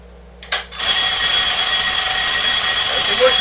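After a brief click and chirp, a loud, piercing electronic fire alarm tone, set off from a pull station during a system test, starts and sounds continuously at close range.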